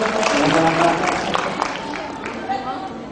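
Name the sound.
audience applause at a seminar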